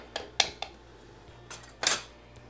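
A spoon knocks and scrapes inside a pot of thick potato, corn and lima bean stew, giving a few sharp, close taps early on, then a couple of longer scraping strokes, with quiet between them.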